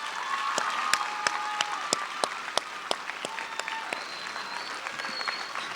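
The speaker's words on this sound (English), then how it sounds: "can I get the audience to applaud yet once again the class of 2017?" An audience at the 2017 Park West High School commencement ceremony applauds the graduating class, with dense, sustained clapping from a large crowd and a few sharper individual claps standing out.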